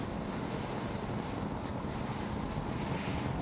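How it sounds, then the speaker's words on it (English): A SpaceX Falcon 9 rocket, a booster on its sixth reuse, lifts off from Space Launch Complex 40 on a Starlink mission, its roar a steady, dense, wind-like broadband rumble that never lets up. "Successful liftoff of Falcon 9 from Space Launch Complex 40 for this 11th Starlink mission."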